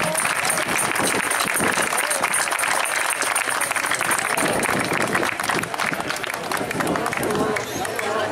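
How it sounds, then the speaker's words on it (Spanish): An indoor crowd at a community anniversary gathering in Vinaròs, Spain, claps steadily and loudly for several seconds, with voices and cheers mixed into the applause. "¡Aplauso para ellas!"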